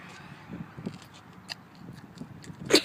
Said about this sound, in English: Keep chewing.